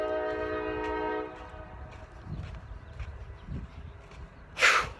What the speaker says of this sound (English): I have to deal with the damn loud, noisy-ass train.